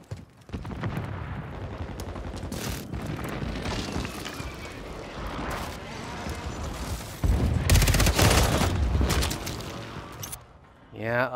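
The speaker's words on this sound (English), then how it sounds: "Hostile airstrike near your location." A hostile airstrike in the Call of Duty Modern Warfare III Season 4 multiplayer hits near the player, with dense, continuous blasts and gunfire rolling on for several seconds and swelling into a louder barrage near the end.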